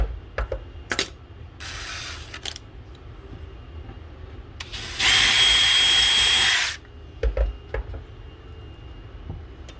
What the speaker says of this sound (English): just use the same drill bit we did for the binding post